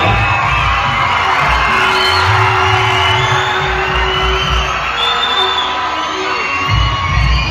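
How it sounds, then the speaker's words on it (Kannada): A crowd at an award ceremony honoring social service breaks into loud, sustained applause, a dense wash of clapping with cheering mixed in. "ಜೋರಾದ ಚಪ್ಪಾಳೆ"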